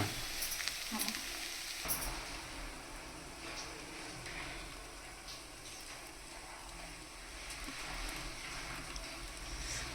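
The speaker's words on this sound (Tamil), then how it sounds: "மழை ரொம்ப பெய்யுது" Heavy rain falling outdoors during home cooking, a steady diffuse hiss of drops with a few sharper clatters near the start, moderately faint and without talk.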